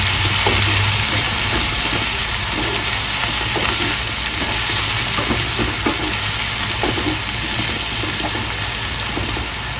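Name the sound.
onions frying and being stirred in pan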